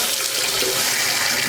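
Steady hiss of water running from a Moen single-handle kitchen faucet into a sink, close and loud, continuous with no talking.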